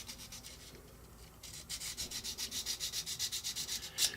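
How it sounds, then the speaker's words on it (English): Fine sandpaper curved like a file, lightly sanding a miniature model during prep, starting with soft scuffing and then settling into a steady rhythm of close, quick back-and-forth rasping strokes, with no talking. "really lightly sand the areas. Sometimes if you curve the sandpaper like this, you can get into some of the harder to reach areas"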